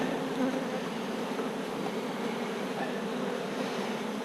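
Honey bees at an opened beehive make a steady, dense buzzing drone that stays even and close throughout, with no voices.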